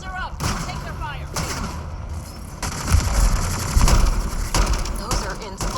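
Bursts of gunfire and heavy thuds in a Mass Effect Andromeda firefight, repeated shots at varying distance, with game voices speaking in between and over the shooting.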